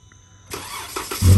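A Jeep engine with stored engine fault codes cranks and catches after a short quiet start, rising into a loud, steady running roar within about a second, heard in a garage.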